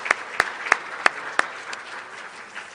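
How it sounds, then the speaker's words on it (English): Audience applause for education agency staff at a career and technical education presentation, heard as a few sparse, evenly spaced claps that thin out toward the end. "If you have, give them a round of applause"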